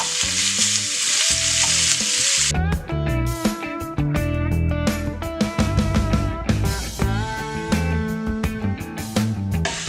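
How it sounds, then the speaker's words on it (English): Loud hissing sizzle of steak searing in a hot pot, with a sharp burst as the meat hits the pan and scraping stirs throughout. "keep the steak moving, keep the pot sizzling"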